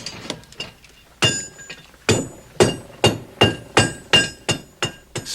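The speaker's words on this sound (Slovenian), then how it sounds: "Spet je zapelo Petrovo kladivo in pelo od zore do mraka" A blacksmith's hammer rings on metal in a steady series of sharp, bright strikes, close and loud, each blow followed by a short metallic ring.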